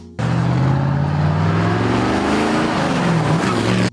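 A 1966 Chevrolet Impala SS 427 V8 revs loudly and steadily for about four seconds, a close, continuous engine roar with rising and falling pitch and no talk.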